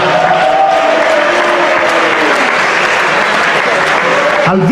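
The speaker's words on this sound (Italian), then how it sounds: "Il referente atletico Davide Carraretto, facciamogli un applauso." Steady, loud audience applause at an Italian end-of-year sports club party, a dense wash of clapping from a large crowd that holds evenly throughout, with a faint tonal sound briefly underneath.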